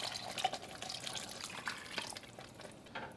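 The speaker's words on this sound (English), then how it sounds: "Add 3 cups of bone broth to this." Beef bone broth poured into a pot of brisket chili, making a steady, close liquid splash and trickle that tapers toward the end, with no talking.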